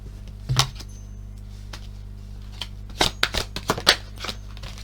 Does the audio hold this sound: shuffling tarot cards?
yes